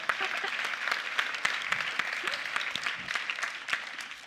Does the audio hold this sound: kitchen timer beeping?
no